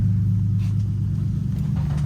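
A steady low engine rumble from a nearby car idling or moving slowly, loud and continuous with no talking.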